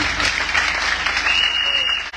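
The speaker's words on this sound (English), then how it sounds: "Una clap for His Excellency." Applause for His Excellency, President Maada Bio, at a public gathering in Makeni, a short burst of crowd clapping with some voices mixed in.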